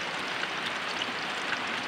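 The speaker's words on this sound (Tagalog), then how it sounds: "Malakas kasi yung ulan." Heavy rain falls steadily during a low-pressure spell, a dense, continuous hiss of water with no voices over it.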